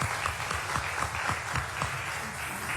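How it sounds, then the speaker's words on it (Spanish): A conference audience applauds the doctor, a dense, continuous wash of clapping from a crowd, steady and fairly loud without speech. "Le damos un aplauso al doctor."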